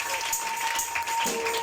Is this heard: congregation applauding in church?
yes